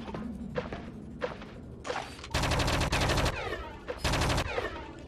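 Gunfire in the video game Project Eden, with a few separate shots followed by two long bursts of rapid automatic fire, loud and close, and brief mechanical clicks between them.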